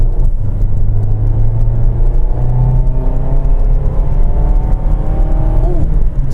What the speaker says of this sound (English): Do you hear that induction noise?